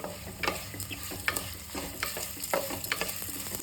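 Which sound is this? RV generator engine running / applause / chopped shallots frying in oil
chopped shallots frying in oil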